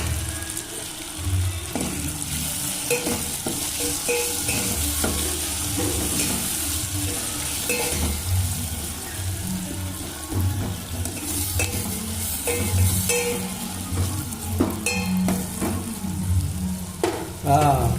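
Onions and then thinly sliced tomatoes fry in a pan, with steady loud sizzling and repeated stirring scrapes running throughout, no voices.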